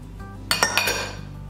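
Flour, baking soda, salt, cinnamon and nutmeg are stirred together in a medium bowl, heard as a few quick clinks and scrapes of a utensil against the bowl, close and brief, with no talking.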